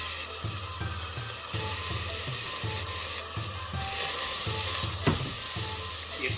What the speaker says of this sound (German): Wenn die Zwiebeln glasig sind, gebe ich den Bulgur dazu.